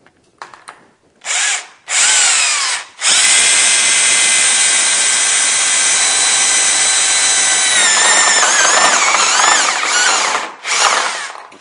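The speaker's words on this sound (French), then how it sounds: "je vais percer le montant" Loud, close power drill boring through a wooden stud in a partition wall, a couple of short starts, then a long continuous whine that wavers in pitch as the bit bites, ending with a final brief burst.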